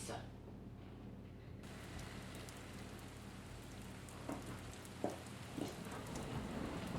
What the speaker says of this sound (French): elle regarde les gouttes de pluie qui font un joli vacarme sur les vitres